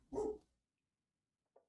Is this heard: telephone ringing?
no